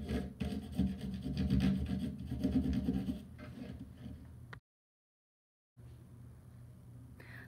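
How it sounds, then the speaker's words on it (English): A white crayon rubbed across black paper over a textured surface, making a close, scratchy rasping that runs for several seconds, then drops out completely before a fainter rubbing resumes. "I'm going to use a white crayon and do the same thing with a different texture"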